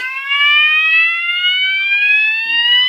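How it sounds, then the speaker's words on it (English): A fire alarm sounds continuously and loudly during a call point test, a steady electronic tone with sweeping overlapping pitches that carries on alone throughout without any voices. "This is fire alarm test"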